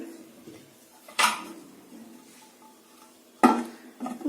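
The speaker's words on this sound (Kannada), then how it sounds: "ಇದರಲ್ಲಿ ನಾನು ಒಂದು ಚಿಕ್ಕ ತಟ್ಟೆ ಇಡ್ತೀನಿ" A small plate is set down inside a preheated pot with two sharp clanks of metal on metal a couple of seconds apart, close and loud against a quiet kitchen background.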